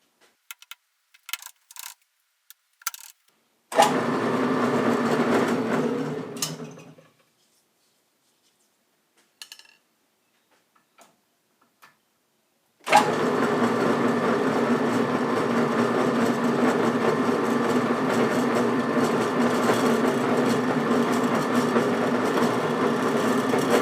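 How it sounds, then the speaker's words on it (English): A metal lathe turning at its slowest setting of 90 RPM cuts with a carbide hole saw, giving a steady loud grinding whir for a few seconds, then a pause with faint clicks, then a long continuous cutting run. "I will set the lathe to the slowest possible speed, which is 90 RPM."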